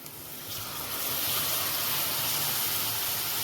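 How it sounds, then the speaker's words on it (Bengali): Salted, turmeric-coated prawns hit hot oil spiced with Kashmiri chili powder in a pan, setting off a steady, bright sizzle that swells after the first half-second and holds loud and continuous. "এবার এর মধ্যেই আমি একে একে চিংড়ি মাছগুলোকে দিয়ে দেব।"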